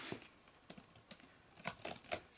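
Quiet, close typing on the small plastic-and-metal keyboard of an Asus Chromebook C101 laptop, an uneven run of soft key taps and clicks.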